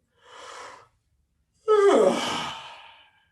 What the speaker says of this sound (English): Ready? Yawn.